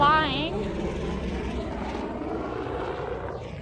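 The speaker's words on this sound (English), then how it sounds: "And you hear the choppers are flying." Helicopters fly along a mountain valley near Everest Base Camp on a Himalayan trek, a steady, loud rotor and engine drone filling the scene continuously, with a brief voice near the start.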